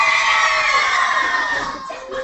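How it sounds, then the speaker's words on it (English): A crowd of schoolchildren at a school gathering cheers loudly all at once, a dense wash of shouting and whooping that slowly fades toward the end. "can I get a big wave and a cheer from Ace Academy?"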